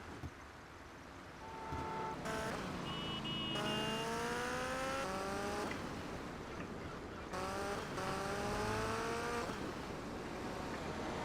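A car drives in the video game GTA Vice City, its engine revving and rising in pitch through several gear shifts, loud and close, with tire noise in the background.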